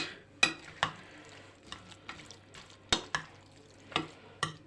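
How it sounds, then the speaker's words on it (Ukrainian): A spoon stirs kutia, a Ukrainian Christmas Eve grain dish, in a pot, with sharp scrapes and clinks against the sides at an uneven rhythm over a faint background hiss, close up and without talk. "Перемішуємо, перемішуємо."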